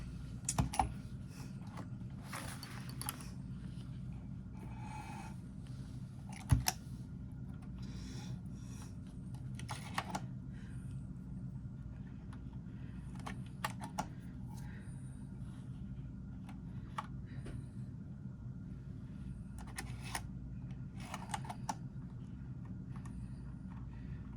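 A Juki Haruka TL-18QVP sewing machine runs with a steady, low mechanical hum, dotted with light clicking and rasping as it stitches. The sound carries throughout at a moderate level, with no talking.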